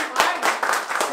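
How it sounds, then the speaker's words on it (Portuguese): A crowd claps at a Brazilian rap battle in Batalha da Aldeia, dense repeated bursts of applause pulsing several times over a second, with voices mixed underneath. "Palmas pra Ju aí, família"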